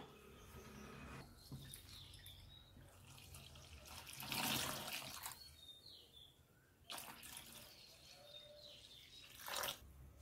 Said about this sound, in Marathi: आता आपण पोहे स्वच्छ धुवून घेऊया।